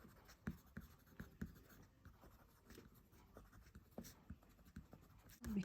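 A crayon scratches across paper in quick cross-hatching strokes for drawing autumn tree leaves, faint, close and irregular, short scraping bursts with small pauses between them, no talking.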